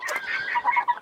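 Bantam chickens from a breeding trio cluck in short, irregular bursts of mid-pitched calls, close and fairly loud, with no talking over them.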